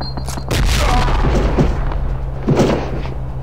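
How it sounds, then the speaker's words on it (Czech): A hand grenade blows up in the shooter game RealRTCW, a heavy booming blast at about half a second followed by a dense rumbling tail, with a second dull thump near the end over constant low game background hum. "Krásný ruční granát."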